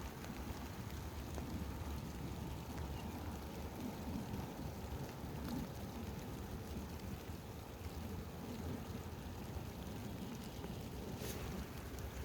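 Steady rain falls outdoors during bass fishing, a faint continuous hiss with light patter and occasional soft wind, no talking.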